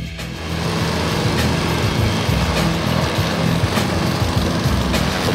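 A Bandit HB20 Sidewinder stump grinder running with a loud, continuous engine roar and grinding drone. It is close and unbroken throughout, with no speech.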